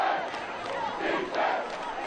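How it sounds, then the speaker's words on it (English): Football crowd at a varsity high school game against Newton South, yelling and chanting for defense in loud, swelling waves that rise and fall across the whole stretch. "Crowd's really into it, yelling defense."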